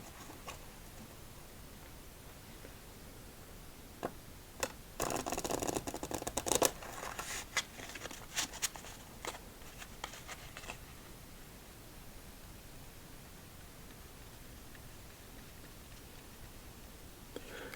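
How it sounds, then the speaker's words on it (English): A quick burst of playing-card shuffling after a game of solitaire, a riffle of rapid flutters followed by a few soft taps, set against quiet room hiss. "Victory shuffle time."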